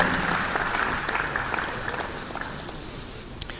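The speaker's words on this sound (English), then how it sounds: "Give them one more round of applause, ladies and gentlemen." Audience applause at the close of a panel discussion at an energy conference: a dense, steady wash of clapping from a crowded hall that gradually thins and fades over a few seconds, with no voices over it.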